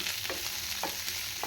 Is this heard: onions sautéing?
yes